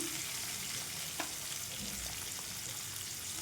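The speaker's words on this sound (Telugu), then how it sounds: "ఇది మొత్తం కూడా మంచిగా ఫ్రై చేసుకోవాలండి ఈ విధంగా ఫ్రై చేసుకోవాలి" Amaranth leaves and moong dal fry steadily in a pan, a dense, continuous sizzle with a faint scrape or two partway through, heard alone without talk.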